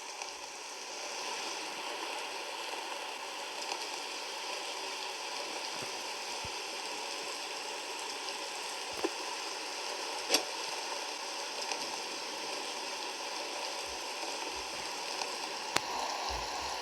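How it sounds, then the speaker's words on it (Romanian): Steady rainfall in a video game, an even wash of fine patter that runs unbroken throughout, with a few faint clicks and taps scattered on top and no talking. "Serios, ploaie."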